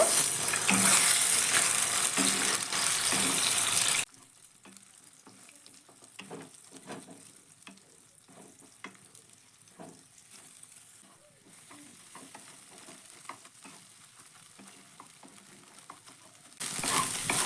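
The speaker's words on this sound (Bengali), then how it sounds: "এবার ডিমটাকে কিন্তু আমি ভুজিয়ার মতো করে ভেজে নেব" Beaten eggs fry in a pan and are broken up bhujia style, a loud close sizzle at first, then a quieter stretch of spatula scrapes and taps before the hiss rises again at the end.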